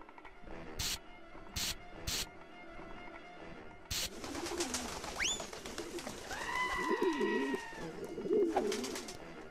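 Pigeons cooing in the video game Jazzpunk, with sharp spray-like bursts at the start, then rising tones and repeated close coos layered over a busy game soundscape.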